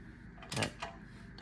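Socket turning a motorcycle swing arm pivot bolt: a few quiet mechanical ratcheting clicks and a short metallic grind, faint and close, over a soft background.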